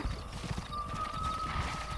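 Horses in the Red Dead Redemption video game during horse breaking, with steady hoof clip-clop and a faint whinny under a continuous background drone, moderately loud and alone.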